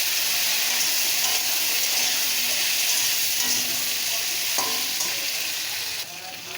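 Sliced potato strips dropped into a pan of oil with onions fried until browned, a steady loud sizzle and hiss with occasional stirring scrapes, no voices.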